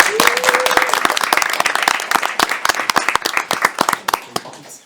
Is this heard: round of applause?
yes